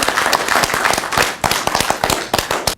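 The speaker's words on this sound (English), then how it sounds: "Let's clap for all of them." A moot court semi-final audience breaks into dense, loud applause, many hands clapping at once in a steady crackling wash for the whole stretch with no voices on top.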